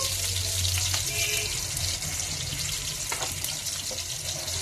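Raw mango pieces and green chillies fry in hot oil for a raw mango and tender tamarind leaf curry, giving a steady, close sizzle that runs evenly through the whole stretch with no talking.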